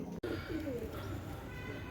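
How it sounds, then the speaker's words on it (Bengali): A pair of Pakistani Sialkoti pigeons cooing, soft low rolling coos repeating a few times at close range over a quiet background hum, faint and unhurried. "একজোড়া পাকিস্তানের শিয়ালকুঠি কবুতার"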